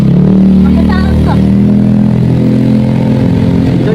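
A motorcycle passes close on a busy Manila street, its loud engine drone rising and falling under nearby voices.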